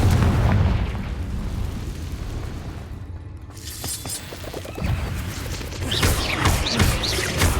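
Confringo fire spell explosions in Hogwarts Legacy on Xbox Series S, loud rumbling booms and bursts rolling through dense, continuous battle noise, with a brief lull before more blasts.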